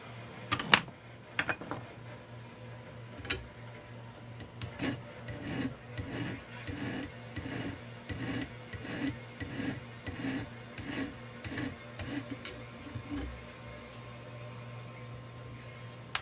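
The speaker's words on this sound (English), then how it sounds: "I can just come along on the back side and sand down the little bit that's protruding" Sanding down protruding solder on the back side of a small project, a rhythmic scratchy rubbing in repeated back-and-forth strokes, close and moderately quiet over a faint background hum.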